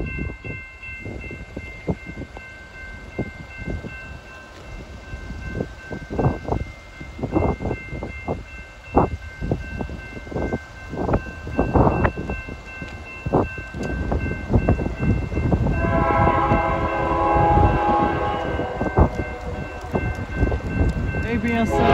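A BNSF train rolls past with a steady rumble and rhythmic clacking of wheels over rail joints, growing louder with a high steel squeal toward the end, heard from close trackside.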